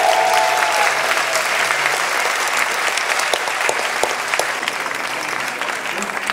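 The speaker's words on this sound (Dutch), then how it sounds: "En ik wil de Ladybirds en het Takkenorkest een groot applaus." A theatre audience in Ghent gives the Ladybirds and the Takkenorkest a big round of applause at an awards revue, a loud, continuous roar of clapping that holds steady from start to finish.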